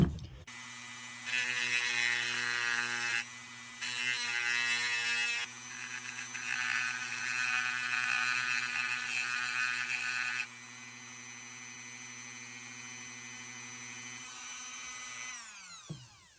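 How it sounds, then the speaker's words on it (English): A grinder wears down a small knife part during repair, a steady, close, high-pitched whine that dips and shifts in tone as pressure changes over about fifteen seconds before spinning down. "Now we got to grind this down and punch this pin out to get this spring out."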